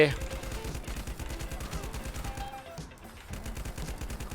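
Rapid automatic gunfire shoots ghosts in a survival video game, dense continuous bursts of shots with a brief lull near the middle, loud and close over game background sound.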